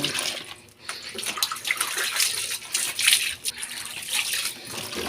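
Water rushing steadily into a basin to soak laundry, a continuous splashing pour that stays loud and close throughout.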